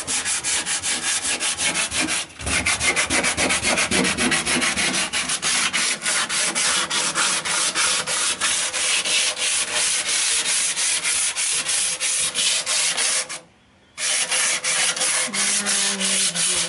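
Hand sanding of wood on a 1958 VW Kombi van goes on continuously, a loud, dense rasping scrub with rapid back-and-forth strokes, broken by a couple of brief pauses.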